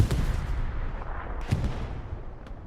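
Booming World War II gunfire in the game Hell Let Loose on Omaha Beach, several heavy reports rolling over a low rumbling battlefield.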